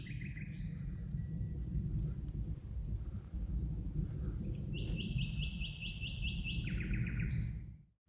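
Forest birds chirp and trill in bright repeated phrases, with a long rapid song in the middle, over a steady low rumble of wind or water and scattered droplet sounds at a camping site.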